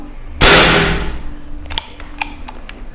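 A single sharp shot from a Predator Mini OD 38 air rifle cracks loudly and decays quickly, followed by a few faint mechanical clicks.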